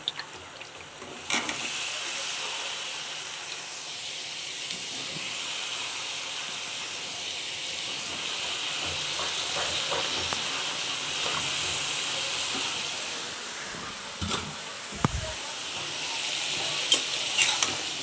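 Gourd stems and radish sizzle and hiss steadily in a big cooking pot, with occasional scraping knocks of stirring over the continuous frying sound; no voices.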